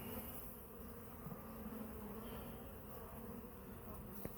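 Honeybees buzz in an open hive box during an inspection, a dense, continuous hum from many insects that stays close and fairly even, with a brief sharp knock near the end.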